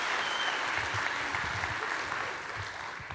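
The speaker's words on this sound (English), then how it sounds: "A round of applause," Audience applause for an entrant at the AVCon 2014 Madman National Cosplay Competition, a steady dense clapping from a large indoor crowd that holds throughout and eases slightly toward the end.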